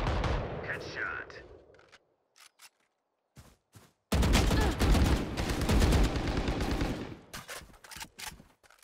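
Rapid gunfire from the video game Valorant: a few isolated shots, then a long dense automatic burst, loud and close, with someone speaking briefly at the start.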